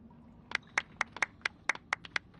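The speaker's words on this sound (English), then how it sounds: "A round of applause, please." A small group in the Genshin Impact game claps sparsely, about a dozen sharp, distinct hand claps in an uneven rhythm over a quiet background.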